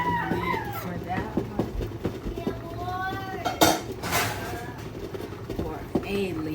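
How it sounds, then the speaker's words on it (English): Metal pot lids clink and clatter as someone rummages through them in a kitchen, a string of close, uneven clanks while a person talks. "let me find the lid for that"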